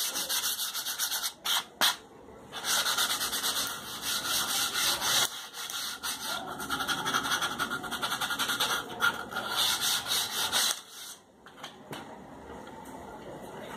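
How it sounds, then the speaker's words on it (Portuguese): Sandpaper scrubs back and forth over a wooden shelf board in quick, steady strokes, close up, with a few brief pauses between passes. "Você vai passar a lixa, ó, para tirar as imperfeições, um pouco as imperfeições da madeira."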